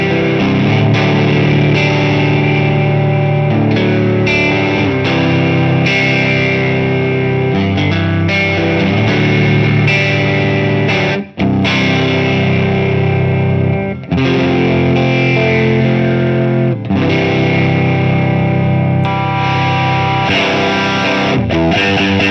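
Grungy electric guitar through an FM3 ODS-100 Ford amp model on the middle pickup with the volume rolled back slightly, playing loud, continuous overdriven chords and riffs with only a few brief breaks.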